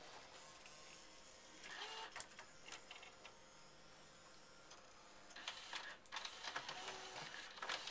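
A double-sided Laserdisc player ejects a disc with a soft, continuous mechanical whir broken by clicks and rattling bursts, fairly faint and close.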